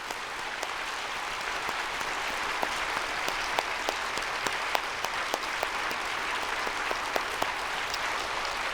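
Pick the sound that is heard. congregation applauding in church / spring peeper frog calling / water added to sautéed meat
congregation applauding in church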